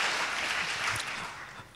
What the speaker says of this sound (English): And please give a warm round of applause to Dr. Jung Chang.